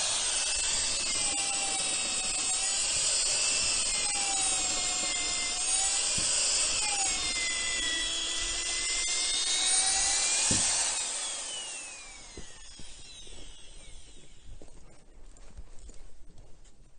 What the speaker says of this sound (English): Now we're drilling out the holes, that way they can be bolted into the little slots right here.